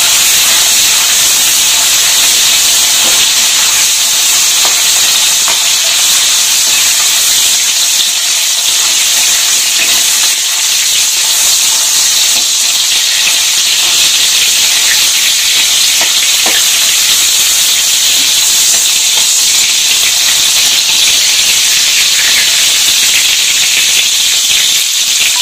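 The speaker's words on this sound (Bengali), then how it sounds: "নুন আর হলুদ দিয়ে হালকা ভেজে নেব, বেশি কড়া ভাজবো না।" Dried loitta fish fries lightly in hot oil with salt and turmeric, a steady close sizzle and hiss with faint crackles and occasional stirring scrapes, continuous and without voices.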